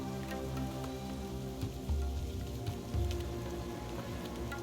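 Rain falls steadily in the Minecraft video game, a continuous wash of drops over a low, tonal game backdrop, with no talking.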